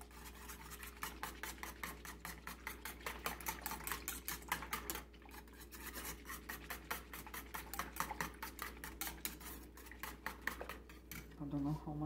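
Crepe batter whisked briskly in a bowl, a fast rhythmic stream of clinking, tapping strokes against the bowl sides, close and continuous with a faint low hum underneath.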